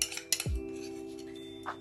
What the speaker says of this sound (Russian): Все перемешиваем.